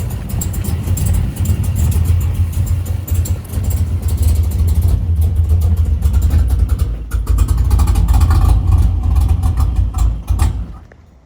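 A cammed 6.4 Hemi car engine loudly lopes and runs rough up close, the idle stumbling and surging before it sputters and cuts out near the end.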